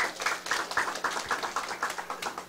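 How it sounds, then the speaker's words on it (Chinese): Audience applause at a Taiwanese political lecture, a steady wash of clapping with distinct hand claps, moderately close and fairly quiet, without talk over it. "来掌声鼓励。"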